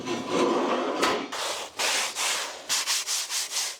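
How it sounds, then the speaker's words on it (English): Metal for a welded steel lifting jib is sanded by hand in a shed: a series of close, raspy strokes, a long grinding rub and then several shorter rhythmic passes. "Quick sand down."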